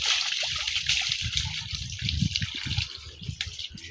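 Water splashes and pours over a calf being bathed during a Mattu Pongal cattle festival, a close, irregular run of sloshing and dripping with soft thuds underneath.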